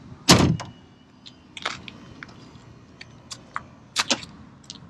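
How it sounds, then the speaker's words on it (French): Power door locks on a 1990 Buick Riviera engage with a sharp clunk, followed by a few quieter clicks and small mechanical taps nearby. "hop, il s'est verrouillé électriquement"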